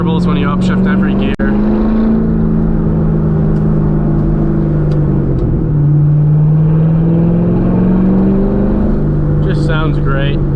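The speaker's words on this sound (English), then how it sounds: "You can hear the burbles when you upshift every gear." Chevrolet Corvette C6 Z06 exhaust on a canyon drive, heard from inside as a loud engine drone that drops in pitch at each upshift, with brief burbling crackles around the gear changes.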